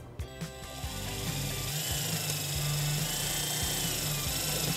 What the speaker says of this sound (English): We're going to install ours right here with a provided self-tapper screw.